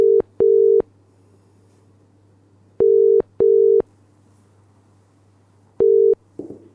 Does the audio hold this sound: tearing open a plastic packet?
no